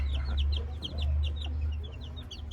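Late-born chicks of pure Maclean and other gamefowl bloodlines peep in a flock, quick high chirps repeating steadily over a low background hum, fairly close and moderately loud with no voices.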